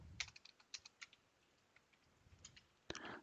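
Scattered keystrokes tap on a computer keyboard while a shell script is typed, coming in short irregular bursts with quiet pauses, close and soft, followed by a louder cluster of clicks at the end; no one speaks.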